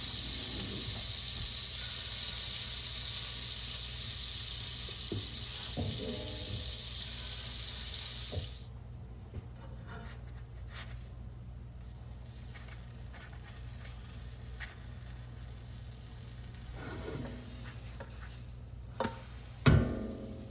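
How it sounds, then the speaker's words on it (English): Pancake batter for egg-free pancakes sizzling in dairy-free butter in a pan: a steady bright hiss for about eight seconds, then settling into a faint, quieter sizzle with a few small clinks. "I will add some more of that dairy-free butter. And then I'll get my scoops of pancake batter right in."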